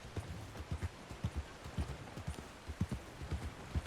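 Horse hooves clip-clop in a steady, brisk rhythm in Red Dead Redemption 2, a horse trotting on a hard surface over faint background noise, with no talk.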